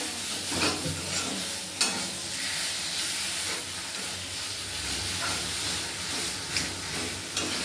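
Spiced potato filling sizzles and fries in a pan in a village kitchen while a utensil stirs it, giving a steady hiss broken by scraping strokes and an occasional sharper clink.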